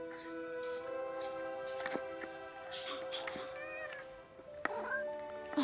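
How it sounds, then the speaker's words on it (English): Unicorn cat in the video game Forspoken meowing several times over steady game music, with short chirpy cries rising and falling, fairly faint and spread across the scene. "finally, the unicorn cat."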